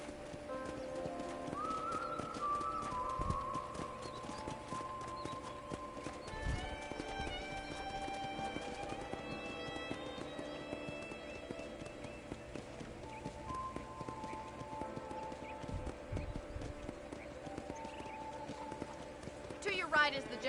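In the Red Dead Redemption video game, horse hooves clip-clop at a steady walking rhythm, with an occasional whinny, while voices talk over the top.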